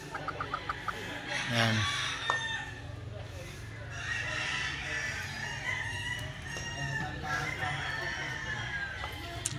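Gamecocks of the White Kelso, Bulik and Super Sweater breeds crow and cluck in a brooding area, a loud nearby crow early on followed by scattered clucking, with someone talking over them.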